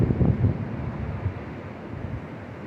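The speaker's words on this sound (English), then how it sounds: "it is so windy out here" Strong wind buffets the microphone at a beach with big waves rolling in, a steady low roaring rush that swells slightly at the start and keeps going throughout.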